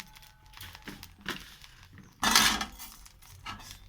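Coriander seeds crackle in a pan over a low gas flame, with scattered small pops and a louder burst of crackling midway, close and alone.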